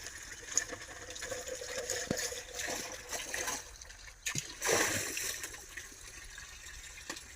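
Water runs into a 200 litre drum with a trickling, splashing sound that rises and falls, a louder gush near the middle, close by and with no talk.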